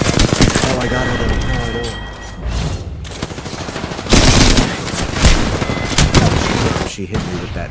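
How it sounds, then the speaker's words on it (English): Rapid submachine gun fire in a video game, with dense bursts of shots running through most of the stretch and a voice talking over the fighting. "She hit me with that SMG."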